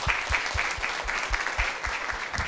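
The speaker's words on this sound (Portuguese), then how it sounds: "Salve de palmas, gente." Applause from a live in-person seminar crowd, a steady rhythmic round of clapping with evenly spaced beats, fairly close and continuous throughout.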